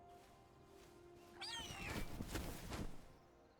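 A griffin in the video game Dragon Age: The Veilguard gives a cat-like meowing call, a few rising and falling cries lasting about two seconds, close and fairly loud over a quiet game background.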